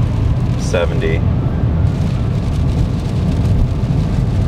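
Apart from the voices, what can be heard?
heavy rain on car windscreen with wiper running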